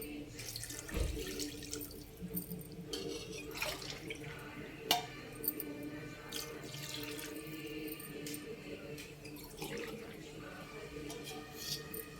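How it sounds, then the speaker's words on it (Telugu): Water runs and splashes into a pot of rice for chicken pulao with a continuous trickling flow, accompanied by a few clinks and a low background hum. "వాటర్ పోసేద్దాం."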